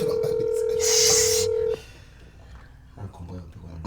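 Telephone keypad tones beep over a room murmur while someone dials a call, then the tones stop and background chatter continues.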